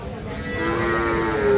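A Friesian bull calf lets out a rising moo that swells louder toward the end, close by at what sounds like a livestock market.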